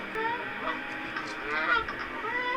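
Recorded goose honking played back, a few short nasal honks in quick succession over a faint background hiss.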